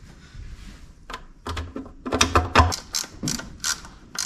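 A ratchet clicks in short rapid bursts while bolts are snugged up on a Plymouth Fury, the pawl's sharp ticks close and intermittent with brief pauses.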